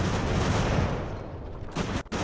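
Dense, continuous rumble of artillery and musket fire across an age-of-sail land battle in the strategy game Ultimate Admiral: Age of Sail, distant-sounding and steady, with a brief dip near the end.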